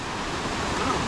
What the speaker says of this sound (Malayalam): എന്തായാലും ദേ അവിടെയൊക്കെ അതാ നമ്മുടെ വെള്ളച്ചാട്ടം കാണാൻ പറ്റും.